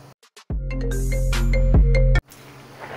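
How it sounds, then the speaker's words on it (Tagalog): A telephone rings in a Filipino radio drama, one long sustained electronic ring with a brief second burst, loud and close, then cut off abruptly into silence. "Tapos biglang nag-ring yung telepono."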